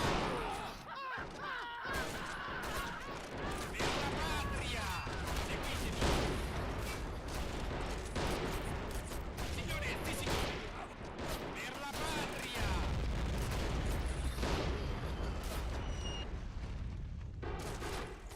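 Dense rifle and gunfire from a World War One video game mod set on the Italian front, with sharp reports and booms crowding together over rumbling battle noise, while a voice talks over the fighting.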